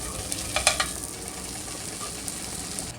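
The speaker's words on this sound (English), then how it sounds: "time to get this burger down for the first sizzle" A lima bean and broccoli stem burger patty sizzles on a hot grill, a steady hiss with a few sharper crackles near the start, fairly close and without talk.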